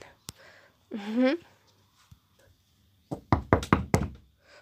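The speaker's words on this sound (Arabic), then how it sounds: "حسنا إذا سوف أطرق الباب الآن" Knocking on a door in the video game My PlayHome: a quick run of about five sharp raps near the end, preceded by a single tap and a brief voice.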